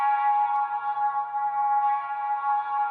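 A guitar sample treated with a chorus effect plays as a steady, shimmering sustained tone for a few seconds, even in loudness and heard alone without speech.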